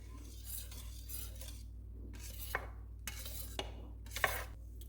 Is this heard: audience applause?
no